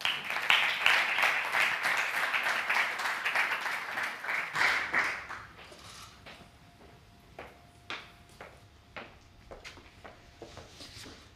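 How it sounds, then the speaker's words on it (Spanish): An audience at an institutional closing event in Valencia applauds: dense clapping for a few seconds, then it thins out into scattered individual claps that fade. "Un aplauso de nuevo para Paula Llobet."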